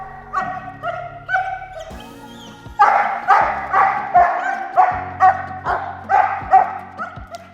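Several dogs bark repeatedly in a warehouse during a training session, a steady run of loud, close yips and bow-wows with a brief whimper, echoing slightly in the large room.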